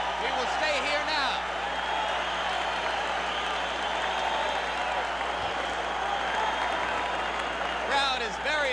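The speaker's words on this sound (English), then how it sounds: "Crowd is very excited." Spectators at a Mike Tyson versus Jesse Ferguson boxing match roar in a steady, broad wash of crowd noise and applause, with commentator voices briefly audible near the start and end.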